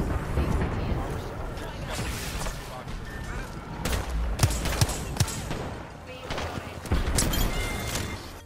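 PK shotgun blasts finishing an enemy in Apex Legends gameplay, a few sharp loud bangs amid busy game noise, movement sounds and rumbling effects, with speech heard over it.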